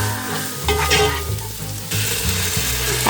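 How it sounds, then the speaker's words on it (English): A coarse paste of ginger, garlic and green chillies sautés in a pan for a Kerala-style fish biryani, giving a close, continuous frying sizzle with bursts of stirring and scraping. "Saute till the raw smell of the ginger and garlic goes."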